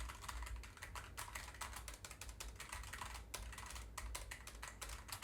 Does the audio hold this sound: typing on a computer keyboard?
yes